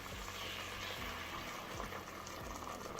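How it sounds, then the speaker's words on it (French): Boiling water pours into a cooking pot of beef with minced-meat croquettes for a tajine, a steady close gush and bubbling wash that runs continuously for a few seconds without talk. "je vais tout simplement ajouter l'eau bouillante et fermer ma cocotte"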